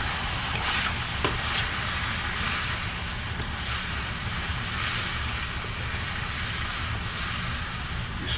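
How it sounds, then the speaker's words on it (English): Sauce stirred and cooking down in a pan over lowered heat, a steady sizzle and soft scraping that run continuously at an even level, with no talking. "You stir all this goodness around."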